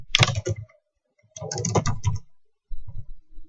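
Someone types on a computer keyboard in three quick bursts of close, crisp key clicks with short silent gaps between them, and there is no talking.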